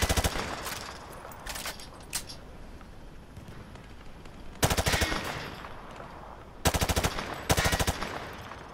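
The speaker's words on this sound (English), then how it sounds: "He sprayed bullets all over the damn place." Call of Duty gunfire from a weapon fired from the hip, in several loud automatic bursts with pauses between, some short and clipped and others sustained, over steady game background noise.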